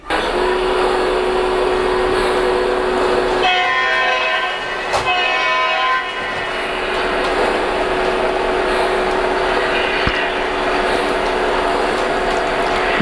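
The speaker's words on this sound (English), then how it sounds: "I've got the one spot in the track here where it goes through that switch that it tends to derail." A model train with two cabooses, one a Norfolk Southern, rolls across a track switch where it tends to derail, giving a steady close rumble of wheels on track with clicking and squealing over the switch, with no talk.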